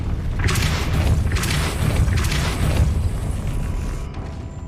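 A Depulso spell goes off in Hogwarts Legacy with a loud, rumbling burst followed by rolling booms and clattering debris that carry on for several seconds before tapering away.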